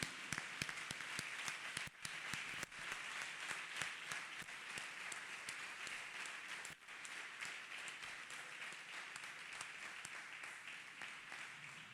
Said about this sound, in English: Let us clap hands for Master Jesus,